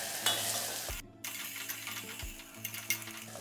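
Ginger-garlic paste and onion are stirred in a frying pan for khichdi, giving a quiet sizzle with repeated scraping, clicking spoon strokes and a brief silent break partway through.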